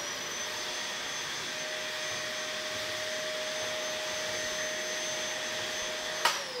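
A Dyson DC05 vacuum cleaner runs with a steady, loud, close motor roar and high whine, ending with a sharp click near the end.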